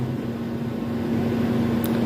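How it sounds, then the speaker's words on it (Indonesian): A blender in a physics and chemistry instrument-analysis lab runs steadily, a loud, constant motor hum with an even drone throughout and no talk. "Blender ini."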